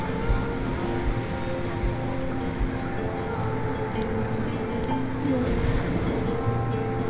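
Ocean surf at Playa Honda, Tenerife, rolls in as a steady, moderately loud wash of waves. The roar is continuous, with no clear breaks and no talking.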